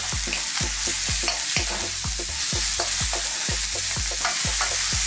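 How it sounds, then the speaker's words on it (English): Pork for sweet and sour pork stir-fried over high heat, a utensil scraping the wok in a steady repeating rhythm of strokes over a constant loud sizzle, close up with no talking. "We're going to stir fry this just to warm it back through again for about 3 to 4 minutes."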